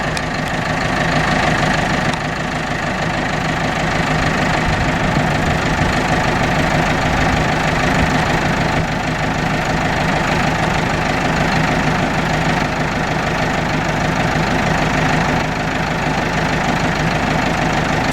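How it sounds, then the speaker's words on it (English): Farm tractor engine idling while stopped in a field, a loud, steady low rumble with a constant knocking throb that runs unbroken and close throughout. "I just stopped the tractor."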